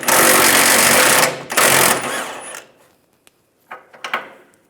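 A bumper bolt on a 2007-2013 Chevrolet Silverado 1500 is spun out with an 18mm socket: two loud, close whirring bursts from the tool, then a few faint clicks and light rattles as the bolt comes free.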